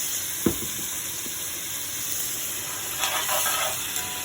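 Vinegar splashes into a hot pan with chuck roast, giving a steady hiss of sizzling under a sharp early clatter, with a brief louder spurt of bubbling about two-thirds through.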